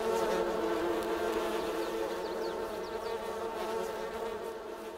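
Flies or bees drone steadily near an apiary in the Farming Simulator 22 video game, a continuous insect buzz with no speech, holding constant level throughout.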